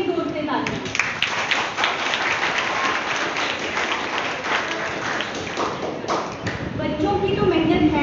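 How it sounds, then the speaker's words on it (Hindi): Steady, dense applause fills a school award function honoring parents, with clapping sustained throughout and a few louder taps and a faint voice near the end. "आपके माता पिता की मेहनत के लिए जोर से तालियां।"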